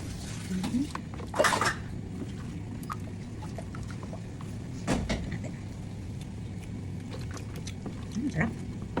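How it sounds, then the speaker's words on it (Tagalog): A mixture with water is stirred in a bowl, giving scattered clinks and scrapes of utensil against dish with a few louder knocks, heard close amid low background noise. "Haluin natin muna ng maigi yan, ang water."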